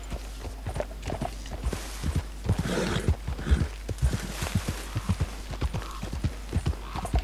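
Steady clip-clop of horse hooves walking at an even pace in the video game Red Dead Redemption 2, fairly quiet and close, with a faint low hum underneath and no talking.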